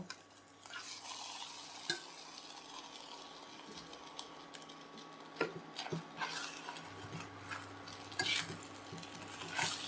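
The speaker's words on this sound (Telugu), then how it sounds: "ఇప్పుడు ఉడకబెట్టుకున్న సేమే వేసుకుందాము" Boiled vermicelli (semiya) tipped into a pan and stirred, with quiet frying hiss under intermittent spoon and pan clinks and scrapes, close and fairly soft, with no talking.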